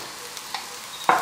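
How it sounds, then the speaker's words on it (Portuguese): Shredded chicken cooking in a pan for coxinha filling sizzles softly while a utensil stirs it, ending with a sharper, louder scrape in a short close-up burst. "Franguinho desfiado, franguinho na panela."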